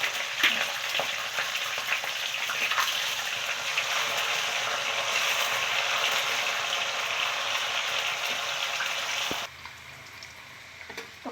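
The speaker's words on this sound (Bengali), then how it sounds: "তো কড়াতে বাদাম ভাজা হয়ে গেছে" Peanuts frying in salted oil in a kadai give a steady, close, loud sizzle with scattered crackles, easing off slightly near the end; no talking.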